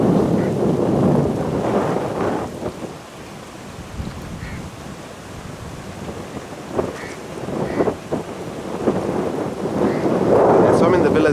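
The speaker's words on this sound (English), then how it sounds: "It's a bit windy out here." Heavy, rumbling wind buffets outdoors at a Maldives island resort, gusting louder and softer across the stretch, with faint voices now and then underneath.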